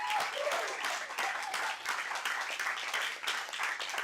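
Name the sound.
audience applause for speakers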